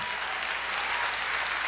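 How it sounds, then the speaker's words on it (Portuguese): Church audience applauding steadily and loudly throughout, a dense broadband clatter of many hands with no voices on top. "Aplauda mais forte."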